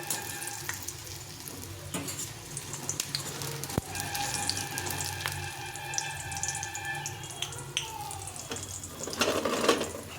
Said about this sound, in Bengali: শব্দ শুনে বুঝতে পারছো যে কত তো বন্ধুরা আমার কড়াইশুটি বড়া বা পকোড়া হয়ে গেছে